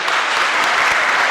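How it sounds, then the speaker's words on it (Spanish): Applause from a church congregation for a woman who answered about the Sabbath, a short, dense burst of many clapping hands filling the room without talk. "Aplauso para la hermana."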